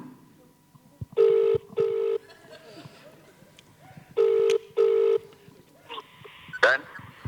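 A phone ringtone goes off in a room during a convention Q&A panel at Dublin Comic Con, sounding two paired electronic rings twice, fairly loud, with faint voices and rustling in between.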